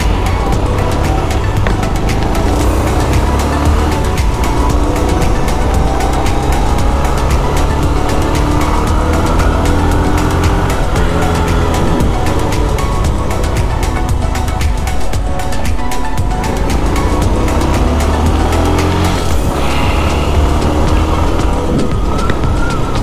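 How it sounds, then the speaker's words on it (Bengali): A motorbike on a long road ride from Dubai toward Ras Al Khaimah and Jebel Jais, a constant loud rush of engine and wind noise that holds steady throughout without talk. "আর হচ্ছে অনেক লং ড্রাইভে যাইতেছি বাইক নিয়ে।"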